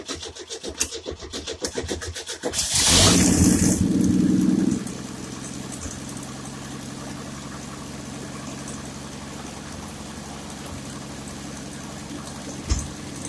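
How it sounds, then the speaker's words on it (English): Small single-barrel carbureted engine with a freshly replaced carburetor, cranked while still dry so fuel can fill the bulb: a loud burst of cranking for about two seconds, then a steady low running hum that continues to the end. "So you got to crank for a minute to get the gas to fill up the bulb."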